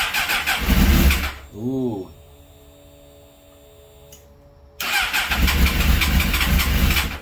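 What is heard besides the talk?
Suzuki GSXR600 motorcycle engine starting and idling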